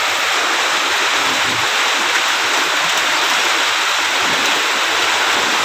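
Floodwater from a typhoon pours into a home's bathroom as a dense, constant rushing roar, loud and close, with no pauses.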